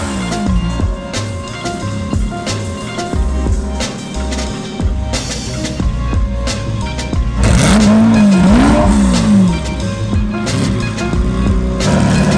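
A Ferrari Testarossa engine runs loudly and steadily at night while the car is driven onto a trailer, with rising revs and a sweeping tonal whine near the end, continuous throughout.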